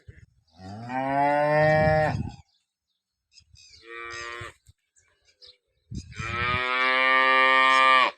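Cows at a farm moo loudly and close by, with two long drawn-out calls separated by a shorter one and brief quiet gaps.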